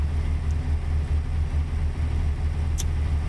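A Peterbilt 389 truck engine in American Truck Simulator idles in a steady, close, low rumble that runs unbroken with no talking over it.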